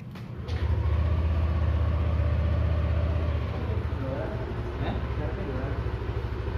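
A Yamaha NMAX or Aerox keyless scooter starts up close by and settles into a steady low idle, with a loud low rumble running throughout and faint background noise.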